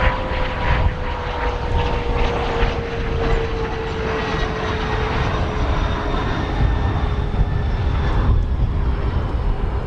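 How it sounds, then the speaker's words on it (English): A Bombardier CRJ200 regional jet arrives at O'Hare, its engines producing a loud, steady nearby roar with a gliding whine that drifts downward in pitch as it passes. "we have a Bombardier CRJ 200 long range, the smallest aircraft in the United States."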